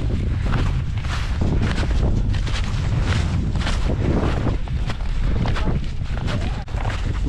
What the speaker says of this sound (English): Well, I guess a little wind now.